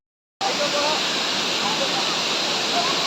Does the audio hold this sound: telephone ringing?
no